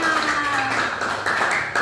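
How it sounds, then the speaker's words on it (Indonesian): A class of children claps together in a classroom, a dense, steady patter of many hands that runs without pause for about two seconds, with faint voices mixed in. "tepuk tangan untuk kita semua"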